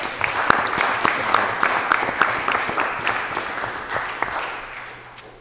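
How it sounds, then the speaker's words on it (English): Applause from a school board meeting audience honoring the girls track team, a crowd clapping steadily with distinct sharp claps close by, holding strong before tapering off toward the end. "Give these guys a round of applause, please."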